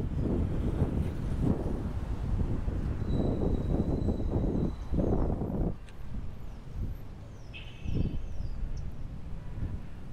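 Heavy wind in Plaza Colón, downtown Cochabamba, Bolivia, buffets the microphone in loud, rolling gusts, easing for a few seconds and then surging again, with a faint high whistle now and then.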